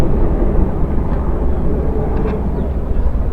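A Douglas DC-6 four-engine propeller airliner flies in formation with a North American B-25, a dense, continuous rumbling drone heard from a distance and holding steady throughout.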